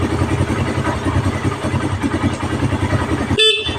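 A Suzuki Raider motorcycle idles with a steady, rumbling engine note, then its stock horn gives one short, sharp beep near the end.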